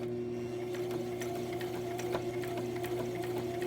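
A sewing machine motor runs steadily while stitching fabric, with a continuous hum and a fast mechanical needle tick running close and loud through the whole stretch.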